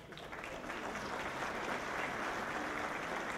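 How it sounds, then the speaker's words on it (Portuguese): Audience applause fills a conference panel hall at a Brazilian telecommunications event, a steady, dense wash of many hands clapping at once, held at an even level from start to finish. "Peço uma salva de palmas."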